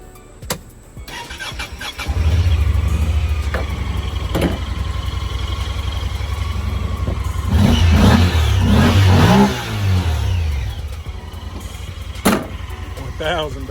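A 1978 Chevy car engine cranks and catches, then settles into a loud close idle with a couple of revs swelling in the middle, while a voice talks over it briefly.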